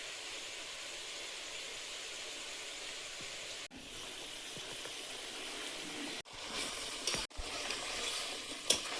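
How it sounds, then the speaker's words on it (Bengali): Chicken sautéing in oil in a pan, a continuous close sizzle with a couple of brief breaks where it cuts off and resumes, and occasional stirring scrapes. "কষিয়ে নিয়েছি, মাংস থেকে তেল ছেড়েছে"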